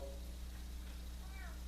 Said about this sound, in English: We got a cat trying to get into the studio.